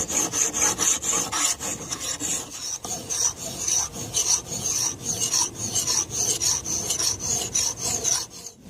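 A hand file rasps steadily along the edge of a Vaughn 2 pound camp axe, rhythmic back-and-forth strokes with a bright metallic ring, close and continuous for several seconds with no speech.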